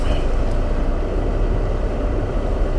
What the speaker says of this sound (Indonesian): ini bro, mesin turbo